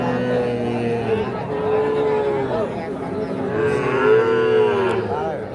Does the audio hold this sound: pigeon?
no